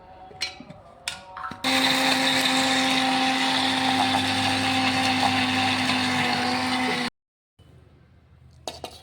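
A mixer grinder loaded with ginger, garlic cloves and masala ingredients whirs loudly and steadily for about five seconds, then cuts off abruptly, with a few clinks and knocks before and after.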